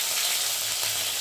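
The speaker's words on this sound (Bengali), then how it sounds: "গোটা জিরে দিয়ে ফোড়নটা একটু ভালো করে ভেজে নেব" Whole cumin tempering and ground garlic, cumin and ginger pastes frying in hot oil, a loud continuous close sizzle throughout.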